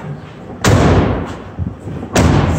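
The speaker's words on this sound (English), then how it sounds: "Close these doors. Obviously, they swing all the way out." Two heavy metal rear doors of a 2017 Ram ProMaster 2500 cargo van slam shut, loud and close, the second about a second and a half after the first, with rattling in between.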